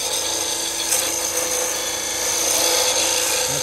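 Steady rasping scrape of a chisel held with light pressure against spinning wood on a Shopsmith lathe, continuous and close for the whole stretch, with no talk.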